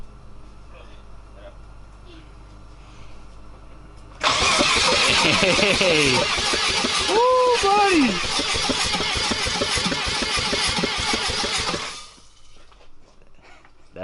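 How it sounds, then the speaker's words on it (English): A Mazda RX-7 rotary engine fires up after sitting unused for six years, bursting into a loud, rough rev that holds for several seconds before dropping back, with excited voices cheering over it. "car cranks for the first time in 6 years"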